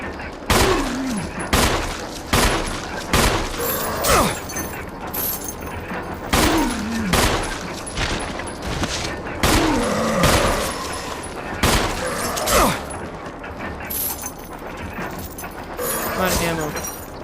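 Pistol gunshots in the Resident Evil HD video game, sharp bangs fired in short bursts of two or so with a rhythmic pattern across the clip, loud and up close, mixed with game sounds.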